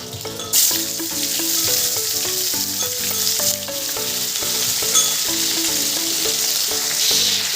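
Cauliflower frying in hot oil seasoned with salt and turmeric, a steady loud sizzle running throughout with occasional stirring clatter and faint tonal ringing from the pan, no voices.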